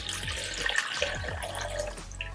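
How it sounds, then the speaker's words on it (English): Water pours and splashes into the tank of a Levoit 2-in-1 humidifier and diffuser, a steady close-up trickle with some gurgling that runs throughout without talk. "So I'm gonna add the water in here first."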